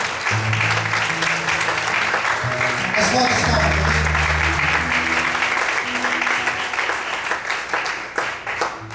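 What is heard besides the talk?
church congregation applauding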